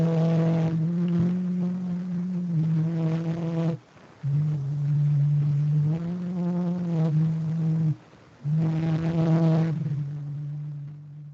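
An 1860 phonautogram of Édouard-Léon Scott de Martinville singing the traditional French folk song Au clair de la lune, rendered as a buzzy, nasal hum of sustained sung phrases separated by short gaps.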